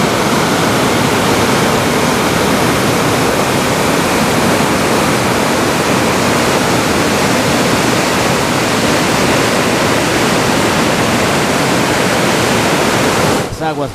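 The flood-swollen Huarpa River roars past the Aljomachay bridge on the Ayacucho-Junín-Huancavelica highway, its waters topping the deck and foundations. The rushing torrent is loud, dense and unbroken, with a brief shift in the roar just before the end.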